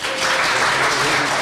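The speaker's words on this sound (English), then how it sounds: "Please give me a round of applause." Audience applause fills a conference hall at a university panel event, steady broadband clapping sustained for the whole moment without a break.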